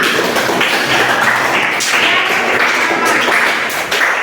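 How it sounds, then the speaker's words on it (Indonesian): A group of people applaud themselves together in a classroom, a dense, steady patter of many hands clapping at close range for about four seconds with no talking. "kita kasih aplaus untuk diri kita semua"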